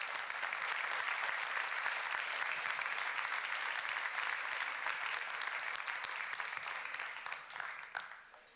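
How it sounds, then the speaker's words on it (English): Sustained applause from an audience at the Megalizzi-Niedzielski prize awards ceremony, steady for several seconds before fading out at the end. "Give them an applause."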